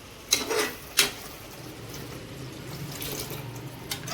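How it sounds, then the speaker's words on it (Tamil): Water poured from a vessel into a cooking pot while making hotel-style empty salna: two short splashing pours near the start, then a steady gurgling fill that continues at close range. "தேவையான அளவு ஒரு சொம்பு தண்ணி, தேவையான அளவு தண்ணி ஊற்றணும்."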